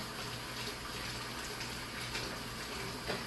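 Water from a kitchen tap pours without a break while raw meat is washed in a sink of vinegar water, an even, close, moderately loud gush with no voices.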